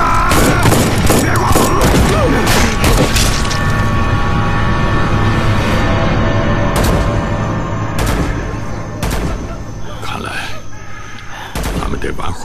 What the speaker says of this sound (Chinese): 他们这么开枪，肯定是遇上熊瞎子了